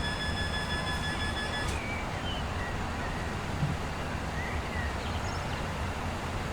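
A passenger train in the Transport Fever 2 video game runs along the track with a steady rumbling roll, some thin high tones fading early and no talk over it.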